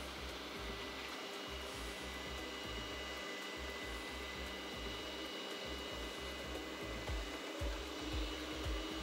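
A magnetic stirrer spins a leaching solution based on ruthenite for recovering gold from imported alloy, giving a steady, close motor whir with a faint pulsing low rumble and no talk.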